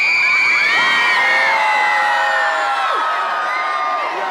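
Large crowd at a youth volunteering celebration cheering and whooping loudly, with children shouting, a dense sustained roar that fills the whole stretch and eases slightly toward the end.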